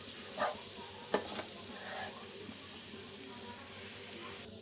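Makhandi halwa roasts in a pan over a low flame, giving a soft, faint continuous sizzle with a couple of brief scraping knocks from stirring early on.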